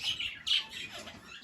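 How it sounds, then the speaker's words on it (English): Pet budgies and kakarikis chirp in short bright bursts, several quick tweets and squawks close by, with no voices. "So we got some birds down there."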